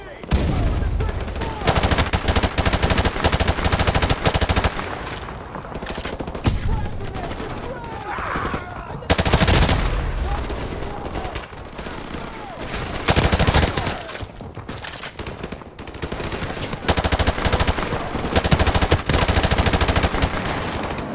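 Sustained automatic gunfire from Call of Duty: Modern Warfare Remastered on PS5, loud dense bursts of machine-gun fire over about twenty seconds, with explosions and shouted soldier dialogue mixed into the chaotic battle.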